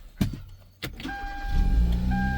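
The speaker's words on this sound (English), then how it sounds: "the car runs and drives now." A car with a sunroof, navigation and backup camera, repaired after a broken exhaust valve, starts up and settles into a steady, loud idle close by, with a few sharp clunks before the engine catches.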